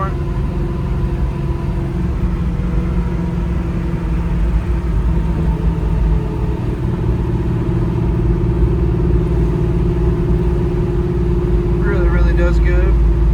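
A 1971 Chevrolet Nova SS with a 350 V8 drives along with a steady, close, low engine rumble throughout, and someone talks over it.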